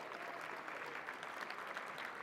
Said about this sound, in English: I would love for you all to give a giant round of applause for the Nick Rossi Trio.